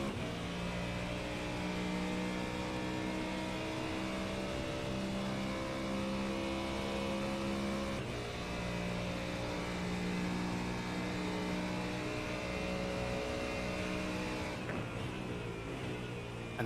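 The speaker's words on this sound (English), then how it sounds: "that wonderful roar there from the Coyote 5-litre V8 engine" A steady, loud Coyote 5-litre V8 race car engine roar in a video game, at Daytona, holds at a sustained pitch throughout, dense and continuous, with a slight shift near the end.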